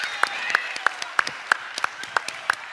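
A small audience claps for someone in a dinosaur costume at a church vacation Bible school opening. The claps are sparse and evenly spaced, about ten sharp hits in under three seconds, with a faint murmur of voices behind them.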